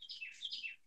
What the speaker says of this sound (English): I hear your birds tweeting.